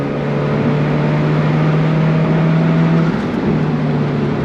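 A 2015 Alfa Romeo 4C Spider's engine revs hard and climbs steadily toward 6,500 RPM, a loud close sustained drone with a rising tone that shifts near the end.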